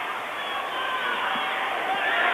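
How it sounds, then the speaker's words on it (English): A crowded high school basketball gym during a McCutcheon at Lafayette Jeff game, with the Maverick cheering section hollering "air ball" as a dense, steady roar of voices that stays loud throughout. "As you can hear the Maverick cheering section hollering air ball"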